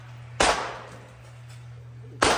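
Two sharp pistol shots at an indoor gun range, loud and close, spaced about two seconds apart, each a sudden crack with a short decaying tail over a low steady hum.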